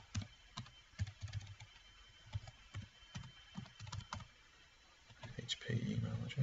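Computer keyboard being typed on while entering an email address, a string of light, close keystroke clicks at an uneven pace, with a faint steady hum underneath and a louder rustling swell near the end.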